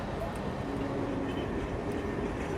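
Train at Samarkand railway station, a steady low rumble and rolling noise that is continuous and moderately quiet, with no distinct voices.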